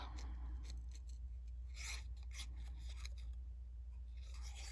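Scissors snip through paper for a card craft, giving a series of short, close, quiet cuts and rustles as the paper is turned, with no voices over them.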